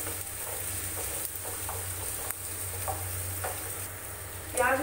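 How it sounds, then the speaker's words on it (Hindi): Finely chopped onions fry in a pan, a steady close sizzle with soft intermittent stirring clicks running throughout and a brief louder burst near the end; nobody speaks. "प्याज को गोल्डन ब्राउन होने तक भूनना है।"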